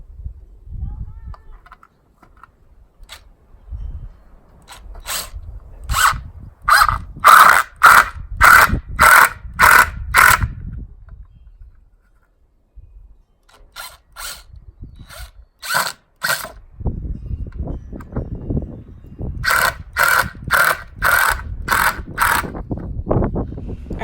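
A power drill drives screws fastening scrap wood support blocks to 4-foot 2x4 boards for a raised garden bed, several loud bursts of whirring and ratcheting with pauses and handling noise between them.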